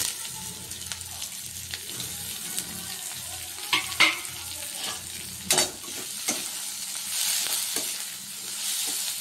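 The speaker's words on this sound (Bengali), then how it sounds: "মশলাগুলো ভাজা হয়ে গেলে এবার ক্যাপসিকামগুলো দিয়ে দিচ্ছি" Capsicum pieces frying with spices in a pan for a paneer dish, a close, continuous sizzle broken by sharp scraping stirs and a few spoon knocks, with no one talking.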